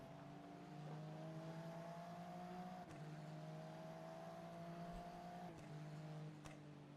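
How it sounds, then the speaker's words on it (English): An Acura race car in iRacing at the Bathurst 12 Hour holds a steady, droning engine note with flat harmonic lines that dip at gear changes, quiet and buzzy, with no speech. "the Acura's engine noise sounds like it's like one of those fart machines"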